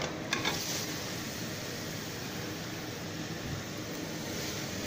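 Chicken pieces hit a pan of cooked onions for Lebanese chicken sayadieh, setting off a continuous soft hiss of frying with a few faint clinks near the start and no talk.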